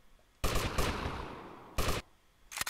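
Loud bursts of rapid automatic gunfire in GTA Vice City on PS4, two long sustained volleys with a brief pause between, then another burst starting at the end.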